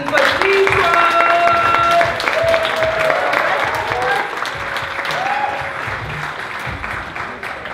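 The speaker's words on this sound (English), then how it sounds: "A whole lot of clapping for Detroit." A live audience at a youth poetry slam showcase breaks into loud, sustained applause, with dense clapping and some cheering that slowly fades over several seconds.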